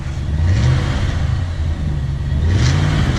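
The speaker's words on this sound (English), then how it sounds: "All right, rev her up." A 841hp Corvette engine revs loudly up close, its low rumble rising and falling in two swells over a steady throaty idle.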